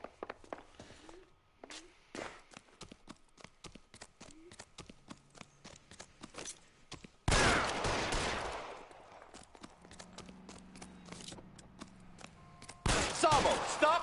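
Gunfire in the video game L.A. Noire: a long run of sharp, irregular shots and clicks, then two dense loud bursts of firing, one mid-stretch and one at the end, with faint voices between.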